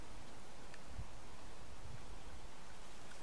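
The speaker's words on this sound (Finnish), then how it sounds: "Siis ihan minimaalinen tuulentuiverrys käy koko ajan." Light wind blows steadily outdoors on a frozen lake during ice fishing, a soft, even whoosh with faint low buffeting and no voices.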